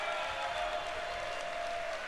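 Steady applause from an awards ceremony audience at a 2019 Reapercon convention, a dense continuous wash of hands clapping with a faint murmur underneath, moderately distant.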